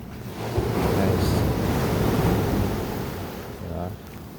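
Sea waves washing onto a shore, a broad rushing surf that rises and falls with wind buffeting the microphone, steady and fairly close.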